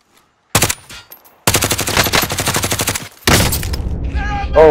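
Loud bursts of rapid automatic gunfire in Call of Duty: Modern Warfare Warzone, three separate strings of shots broken by short pauses, close and sharp, ending in a mechanical clatter.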